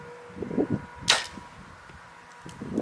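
Arrow released from a compound bow at a 3D target on an outdoor archery course in Louisiana, a single sharp crack with a quick impact, followed by low background rustle.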